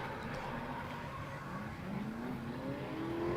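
A drift car accelerating at Hampton Downs during D1NZ drift series qualifying, its engine note climbing in pitch at a distance, fairly faint, with no voices.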